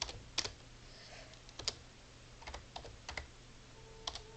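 Typing on a computer keyboard comes through as scattered, crisp key clicks in short irregular bursts, close and moderately loud over a low steady hum, with no talking.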